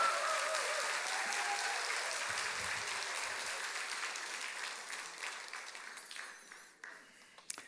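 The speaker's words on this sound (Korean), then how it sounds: "우리 목사님 넣으실 때 할렐루야 박수 이렇게 오래가는 박수를 하도록 하겠습니다" A church congregation at a Sunday afternoon worship service in Korea gives long, sustained applause that is dense and full at first, then gradually thins and fades toward the end.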